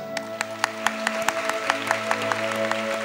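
Audience at a kimono queen contest award ceremony applauds steadily in a hall, a sustained wash of clapping with sharp individual claps standing out over a steady tonal hum.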